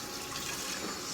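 A kombucha jar rinsed out under a running kitchen tap, a dense, steady wash of splashing water close by, with no pauses and no talk.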